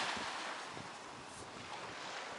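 Sea waves washing onto Mannesmann beach, a steady broadband surf wash with gusting wind noise across the microphone, no voices present.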